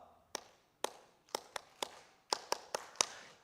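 One person claps a rhythmic pattern in a church during a Sunday evening service, with about ten crisp, moderately close claps, some evenly spaced and some in quick pairs, in an otherwise quiet room.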